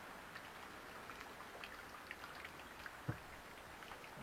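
Steady rain patters close by, a dense hiss of drops with a few louder splats, quiet and continuous with no talking.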